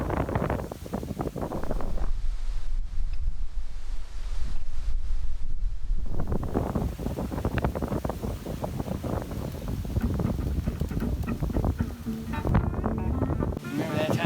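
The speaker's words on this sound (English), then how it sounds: "Wondering what this strong wind is doing when it gets into the woods." Strong wind gusting through woods during a windstorm, a loud continuous roar with swelling gusts and rustling, briefly easing in the middle before surging again, heard up close against the microphone.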